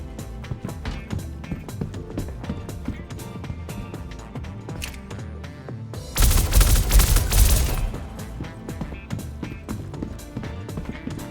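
Rapid Arclight pistol fire in the Star Citizen game, a dense burst of loud shots clustered in the middle over a busy backdrop of game sound and lighter intermittent clicks and steps.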